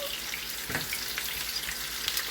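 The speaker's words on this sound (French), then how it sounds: "Ici, je vais mettre les oignons à frire." Onions fry in a pan with a steady, fairly quiet sizzling hiss, plus a light stirring scrape or two.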